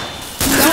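Shotgun fire in Left 4 Dead 2 erupts partway through as a sudden loud burst, after a quieter stretch of game ambience.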